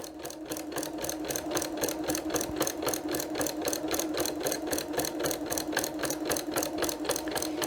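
Sewing machine fitted with a walking foot stitching a quarter inch around a layered place mat, a steady, loud, rhythmic needle clatter running evenly throughout at close range.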